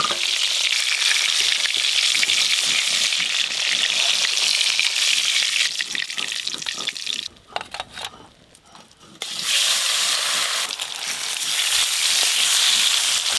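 Hilsa fish fries in hot oil with a loud, steady sizzle and crackle close up, the spatter dropping away briefly midway before surging back.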